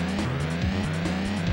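Altered, glitched car in the SNES racing game Top Gear 3000 driving at full speed, a loud continuous synthesized engine drone with stepping pitch changes, no talking over it.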